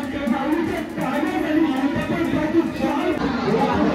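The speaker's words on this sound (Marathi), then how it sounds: "भरपूर गर्दी होती दर्शनाला." Dense crowd chatter fills a packed temple during Navratri darshan, a steady wash of many overlapping voices throughout with no single speaker standing out.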